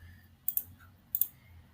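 Mouse buttons click twice in quick pairs at close range while working in CorelDRAW, four sharp light ticks over near silence.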